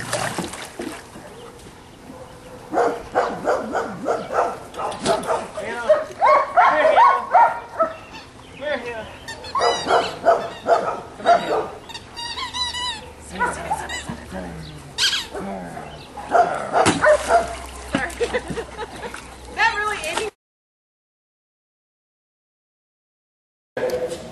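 Dogs at a doggy day camp romp and play, giving off repeated yips, barks and whimpers at close range amid scuffling noise, before the sound cuts to silence near the end.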